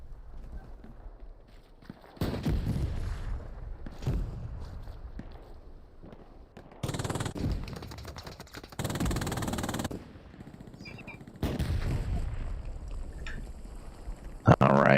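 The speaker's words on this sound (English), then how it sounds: "trying to get some nice fire down here with his MG" Automatic machine gun fire in the online WWII shooter Hell Let Loose, loud bursts of rapid shots in several separate strings, with game sounds and talking mixed in.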